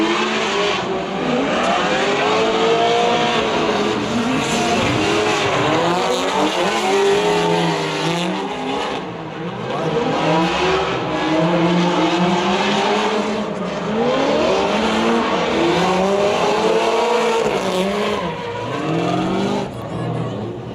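Drift cars battling wheel to wheel at HOTPIT Autofest, engines screaming and revving hard with constant tire squeal, loud and close throughout, with faint voices in the background.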